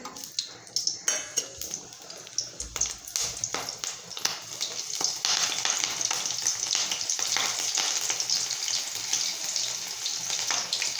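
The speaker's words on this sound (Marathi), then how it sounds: "वड्यासोबत खाल्ल्या जाणारी हिरवी मिरची पण तळून घेऊत" Green chillies fry in hot oil, the same oil used for moong dal vadas. A few clattering knocks open it, then a dense, even sizzle settles in and carries on alone to the end.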